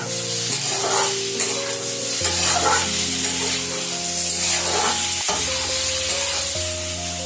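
Cumin and ginger spice paste for a thin rohu fish curry sizzles steadily in hot oil, a continuous loud fry with occasional scraping stirs and no voices.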